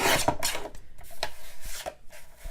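Paper being trimmed by hand for a card-making craft project, short scraping and rasping strokes in an irregular rhythm, close and fairly quiet with no talking.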